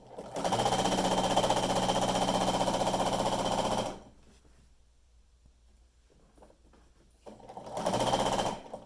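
A sewing machine stitches quilt binding down in a fast, steady needle patter, close and clear, running for a few seconds, stopping, then starting up again.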